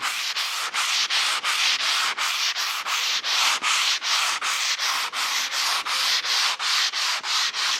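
Abrasive sanding of a wooden guitar neck, light pressure, a steady back-and-forth rubbing in even strokes about twice per second, close and continuous with no voices.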